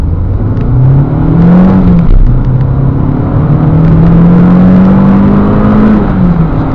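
2005 Renault Clio 2.0 RenaultSport 182 Trophy accelerating hard from a standstill, engine revs climbing through several gears with a brief dip at each shift, loud and close from inside the car.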